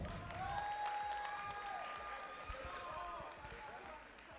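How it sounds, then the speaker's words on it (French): Crowd applause for the TBK eSport team at a FIFA 23 esports playoff final, a steady wash of clapping that fades slightly toward the end, with an announcer's voice and tonal sounds running over it. "Encore un tonnerre d'applaudissements pour TBK eSport"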